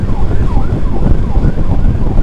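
An ambulance siren wails loud and close on a road, its rising and falling tone riding over heavy traffic and engine rumble.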